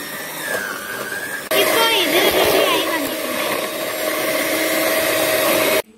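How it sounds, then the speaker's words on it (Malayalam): An electric mixer beats hot sugar syrup for marshmallow, starting abruptly with a loud, steady whirring motor hum that runs continuously close by for several seconds before cutting off. "ഇനി നമുക്കിത് ബീറ്റ് ചെയ്തെടുക്കാം"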